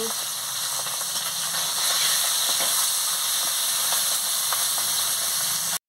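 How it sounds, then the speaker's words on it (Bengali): Fish frying in hot oil in a kadai over a lit stove, a steady, even hiss and sizzle running throughout at moderate volume, with faint scattered crackles. "তেল গরম হয়ে গেছে, আমি মাছটা দিয়ে দিচ্ছি। মাছটা দিয়ে ভালো করে ভেজে নিচ্ছি।"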